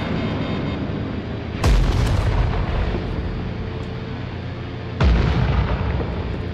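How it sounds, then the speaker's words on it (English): Two heavy booming blasts from missiles in the Nuclear Option flight combat game, each a sudden loud burst over a constant roaring engine drone. "So they're firing missiles at me."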